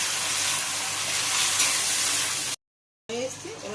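Chilli cauliflower stir-frying in a pan with soy sauce gives a loud, steady sizzle and scraping stir. It cuts to a brief silence, then a voice speaks over fainter sizzling.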